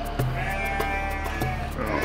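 Loud, close bleating from sheep or goats in a herd, with several wavering calls overlapping against steady background noise.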